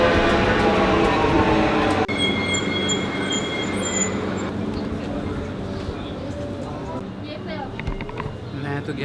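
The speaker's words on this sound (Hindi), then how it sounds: "ये है बुलेट ट्रेन जो जाती है कोनिया अंकरा।" Bullet train bound for Konya and Ankara at a station in Istanbul, Türkiye, a loud steady rumble with high squealing wheel tones, while someone talks over it.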